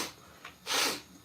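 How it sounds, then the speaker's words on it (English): A person sniffles while unwell, one short faint sniff followed by a longer, louder inhaling snort through the nose, close up in a quiet room. "I'm sniffling right now because my immune system is down."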